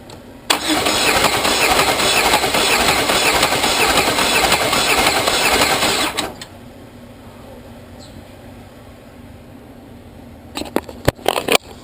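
A 1998 Chevy Monte Carlo with a broken cam cranking over, loud and close, a steady churning roar for about six seconds that then stops, followed by quiet and a few sharp clicks.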